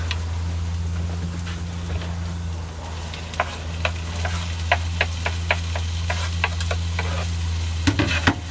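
Thin-sliced roast beef, onions and mushrooms sizzle in a pan while being stirred, a soft frying hiss under a low steady hum, with regular spatula clicks and scrapes.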